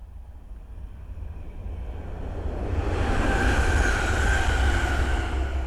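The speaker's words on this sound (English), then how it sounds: "the first train to pass by is an East Midlands Railway 360 from London St Pancras to Corby" An East Midlands Railway class 360 electric train passes by, a rumbling roar that builds from moderate to loud and stays steady with a faint whine of wheels on rail.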